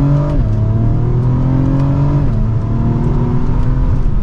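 A 2024 Acura TLX Type S accelerates hard in Sport S Plus mode, its engine note climbing then dropping sharply with each quick gear shift, loud and close from inside the cabin with no talking.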